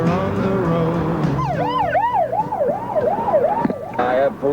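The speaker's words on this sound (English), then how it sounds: "I have police cars whizzing by me now toward the area." Police car sirens wailing past during a 1992 Tornado Alley storm, a loud rising and falling yelp that cycles several times over road and engine noise, with a tone heard at the start.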